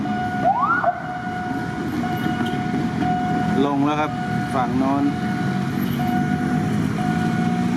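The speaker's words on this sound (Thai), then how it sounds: "สัญญาณเครื่องกั้นก็เริ่มดังขึ้นอีกครั้งหนึ่ง" A railway crossing barrier warning signal at Yommarat in Bangkok, Thailand, rings over rumbling traffic, with a rising tone and rapid warbling bursts as someone talks over it.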